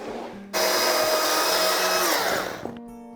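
A chainsaw cuts into wood while shaping a natural edge hollow form, starting abruptly with a loud, steady roaring whine that holds for about two seconds, then fades as the engine drops back to a lower idle.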